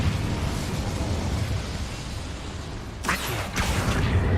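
Incendio fire spell cast in Hogwarts Legacy, a fiery whooshing burst with sharp pops near the end, over a steady rumbling game background.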